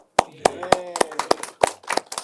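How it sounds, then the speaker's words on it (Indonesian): A few sharp hand claps ring out in an uneven rhythm, close and fairly loud, mixed in with a person talking over them on an interview podcast. "Tepuk tangan dong"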